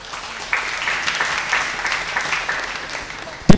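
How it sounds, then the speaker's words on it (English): An audience at a debate event claps for youth ambassadors, a moderate, fairly close burst of scattered hand claps lasting a few seconds. "Please clap for them."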